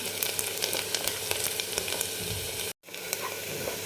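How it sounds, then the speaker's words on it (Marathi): Chopped onion sizzles and fries in a hot pan for a Maharashtrian mutton curry, a steady dense crackle close by with scattered pops and a brief cut to silence near the end, no voices. "कांदा आपला छान बघा परतत आलेला आहे आणखी थोडंसं काही सेकंद आपल्याला याला फ्राय करून द्यायचा"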